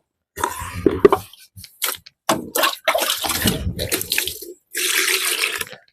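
Water poured into a homemade medicine mixture for treating a rotting wound, splashing in several bursts of varying length with short pauses between, fairly close and loud, no talking.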